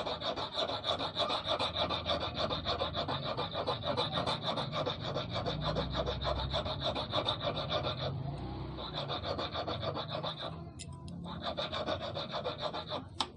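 Steady rasping scrape on a cut metal brake disc being shaped into an eel fishing hook, running close and continuous with a short pause near the middle and another brief break toward the end.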